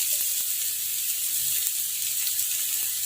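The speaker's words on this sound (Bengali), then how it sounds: "ডিমটা লাল লাল করে আর একটু ভাজবো।" An egg fries in a pan, giving a constant bright hissing sizzle throughout with faint occasional taps from stirring and no voices.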